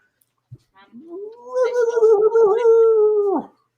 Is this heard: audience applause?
no